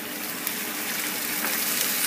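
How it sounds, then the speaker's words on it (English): Water poured into a pan of frying chopped onions in olive oil gives a steady, close hissing gush that holds evenly for about two seconds. "I'm going to drop water in there"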